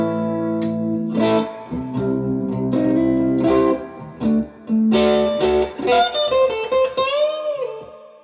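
An electric guitar plays clean chords and a melodic line through a Yamaha THR30II amp on a clean American 1x12 setting, notes ringing out with a reverberant tail, loud and close.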